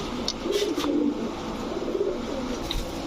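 Jhakgola pigeons at a loft, here a Pakistani Jhakgola hen among others, give low, soft throaty coos in a steady murmuring run, close by with faint high chirps over it.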